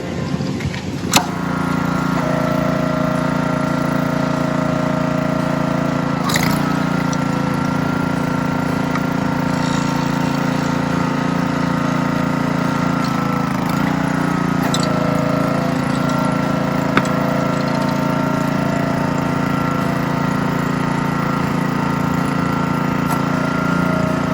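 A small gas engine on wood-chopping equipment, started with a pull cord after the choke is set, runs at a steady drone for over twenty seconds, loud and close, with a few faint clicks on top.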